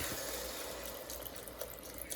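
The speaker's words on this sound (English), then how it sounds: "So I'm not adding too much liquid, just a cup of the chicken stock" Chicken stock poured into a pot of homemade mushroom soup, a soft, continuous liquid trickle and splash, close but fairly quiet, with no talking.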